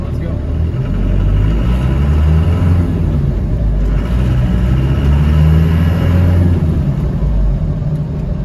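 A 1993 Land Rover Defender 90 with a 200tdi diesel engine driving on a dirt road: a loud, continuous low engine rumble with bumpy road noise, heard close from inside the cab.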